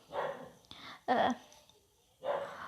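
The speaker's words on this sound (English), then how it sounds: "I'm so sorry if my dog is such a noisy ass frick" A dog barks in three sharp bursts with a short yip between them, close and loud indoors, with no one talking over it.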